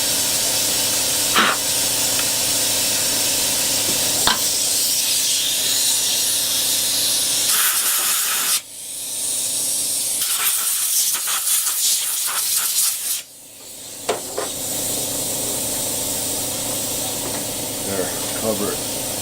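A pressurized aerosol can sprays cleaner onto a firearm, the loud steady hiss running in long continuous bursts with a brief pause midway, and a voice talking over parts of it.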